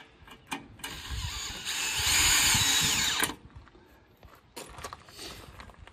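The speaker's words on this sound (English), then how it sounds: "I'm gonna run some screws into it to hold it down" Power drill whirring in bursts as screws are driven into a board to hold down a piece being beaten into shape, with a long steady run in the middle and shorter pulses before and after, close and loud.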